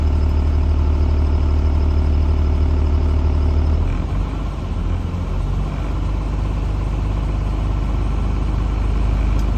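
A truck engine idles steadily while air pressure builds toward governor cutoff, a deep continuous rumble that shifts in tone around the midpoint before settling back into an even drone.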